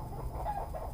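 A fighting rooster gives a few soft, low clucks close by during a pickup in San Mateo, Rizal, with a steady low rumble of traffic or engine noise underneath and no talking.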